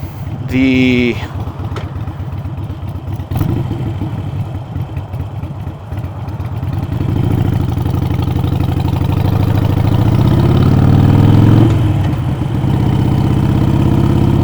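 A Harley-Davidson 883 motorcycle with a misbehaving neutral and clutch runs close by on a summer ride, its engine rumbling steadily and swelling louder toward the end, with wind noise and a voice talking over it.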